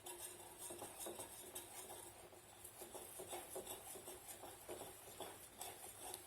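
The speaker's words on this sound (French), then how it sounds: "Et on mélange au fouet, donc on mélange au centre." A whisk beating crêpe batter made from flour and eggs in a bowl, a quiet and quick run of clinking strokes that keeps going steadily and close, with no talking.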